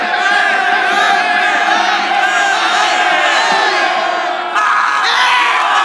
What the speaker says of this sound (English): Random angry yelling is one of those things that crowd cheering crews just do